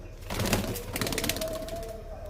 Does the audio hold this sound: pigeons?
yes